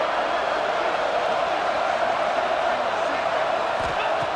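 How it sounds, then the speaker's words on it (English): Stadium crowd in EA Sports College Football 26 near the goal line, a dense continuous roar of many voices, loud and steady, with a few thumps near the end. "The crowd really making some noise now"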